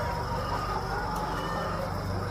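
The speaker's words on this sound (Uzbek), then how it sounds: "Holatlari yaxshi tovuqlarimiz, tuxumlar tug'ib yotishibdi mana." Laying hens cluck softly and continuously inside a poultry house, their calls blending into a steady background hum with no talking.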